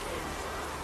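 Rain in The Witcher 3: Wild Hunt, an even, dense hiss of falling water that stays steady and close throughout the short stretch.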